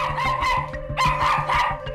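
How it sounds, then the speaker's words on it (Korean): A startled blind dog barks in alarm after another dog tries to bite it, in a home in Canada: a rapid, close run of sharp, loud barks and yips, one after another, with no talking. "AJ가 물려고 하자 화들짝 놀라 짖어대는 라이온"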